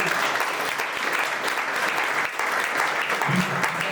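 An audience at a community event gives a steady round of applause, dense clapping lasting several seconds at close range.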